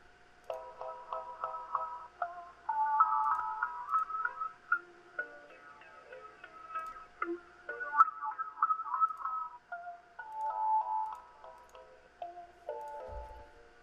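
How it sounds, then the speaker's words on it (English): Synth run through a Waves MetaFlanger flanger effect, playing busy rhythmic chord stabs and sequenced notes with a sweeping, whooshing shimmer, steady and moderately loud with no voices, a low thump near the end. "So meta filter, meta flanger. I usually love to use this on vocals, but it does well on synth."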